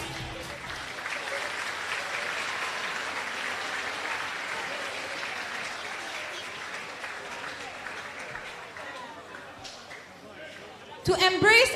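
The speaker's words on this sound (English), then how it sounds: "A big round of applause for the athletes." A crowd at a swimming championships ceremony applauds the athletes with a long, even roar of clapping that fades slightly toward the end before a voice cuts in close to the microphone.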